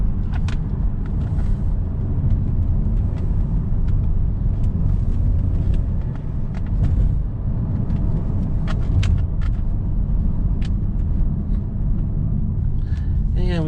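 A 2013 Ford Escape with 65,000 miles on the engine driving along a road, a steady low rumble of engine and tyre noise heard from inside the cabin, constant and fairly loud with scattered small clicks.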